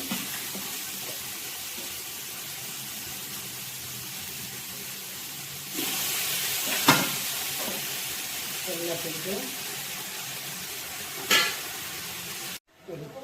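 Cooked mutton frying in a spiced oil tempering: a steady sizzle runs under someone talking, and a louder burst of hiss and scraping comes as the pieces are stirred. The sound drops out briefly near the end.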